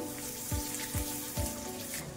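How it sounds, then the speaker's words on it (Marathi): Spices and fresh coriander sizzling in hot oil tempering, a quiet continuous sizzle with three soft stirring knocks at regular intervals. "थोडीशी फोडणीत कोथिंबीर टाकते"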